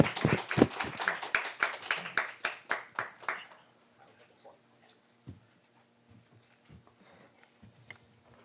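Applause from a conference audience bursts out loud and dense for about three seconds, ending in a few last claps, then fades to a quiet room with scattered small noises.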